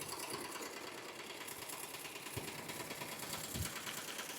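A sewing machine, apparently an embroidery machine, stitches a personalized sherpa throw with a steady, faint rapid whir and no talking.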